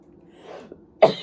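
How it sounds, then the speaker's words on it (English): A single sharp cough bursts out after laughing, close and fairly quiet, preceded by soft breathy sounds. "I started coughing."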